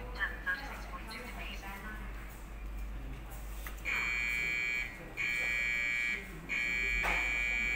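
A fever alarm from a temperature detection system sounds three long, loud electronic tones with short gaps between them, after a stretch of quieter room noise, with someone speaking.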